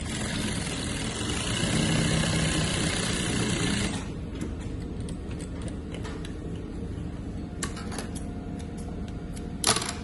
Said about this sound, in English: Now I'm going to sew after threading properly.